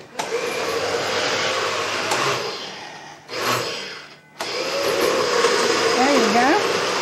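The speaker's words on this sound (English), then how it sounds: "Miss Myrna is going to put it on and puree it" A blender purees a meatloaf mixture in a home kitchen, running as a steady loud whir that drops out briefly midway before starting again, with some talk underneath.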